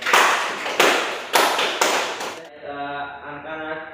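Students in a classroom clap together in four loud, evenly spaced unison bursts, each decaying quickly, followed by a quieter voiced sound.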